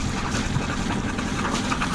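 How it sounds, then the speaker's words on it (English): A steady low engine drone runs throughout, unbroken and fairly loud, from a Dana 24 sailboat's engine running nearby after its heat exchanger was descaled. "we'll crank up the engine."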